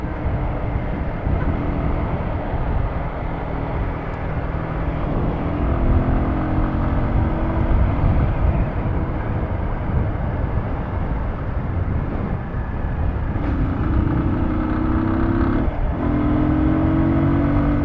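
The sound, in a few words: Keeway Cafe Racer 152 motorcycle engine running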